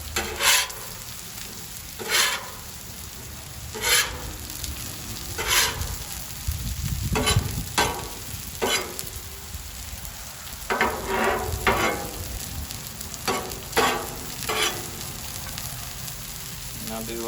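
Steak, potatoes and corn sizzle steadily on a Blackstone griddle, a close continuous fry broken by repeated scraping and tapping of a spatula on the cooktop.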